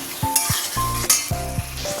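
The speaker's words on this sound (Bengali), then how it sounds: "এখানে হচ্ছে মশলা কষা" Spice paste for a fish curry with fried cauliflower and drumsticks is stirred and fried in a pan: a close, sizzling hiss broken by several rhythmic scraping strokes of a spatula across the metal.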